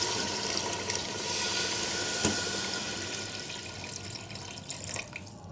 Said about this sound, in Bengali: এখন আমি এর মধ্যে দিয়ে দিচ্ছি পানি।